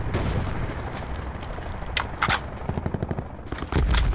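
Gunfire in Call of Duty Black Ops 4 Blackout crackles in rapid bursts, sharp repeated shots of varying distance, some distant and muffled, others closer and louder.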